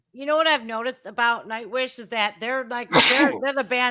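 A sneeze bursts out at about the three-second mark, a loud, sharp, breathy blast cutting through steady conversational speech from a person talking about a metal band.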